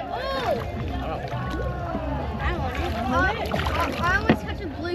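Water sloshes and splashes around a small boat in Hoi An as voices chatter and call out nearby, the paddling sounds mixed under the lively talk.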